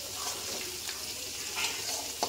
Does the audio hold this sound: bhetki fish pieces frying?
yes